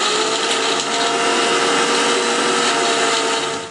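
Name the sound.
mixer grinder grinding soaked tamarind chutney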